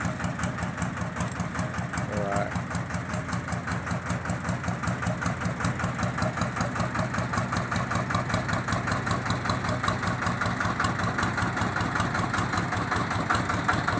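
A Thai e-taen farm truck from Ubon, built for three to four ton loads with a Toyota gearbox, idles with a steady, close, rhythmic diesel chug that runs unbroken throughout.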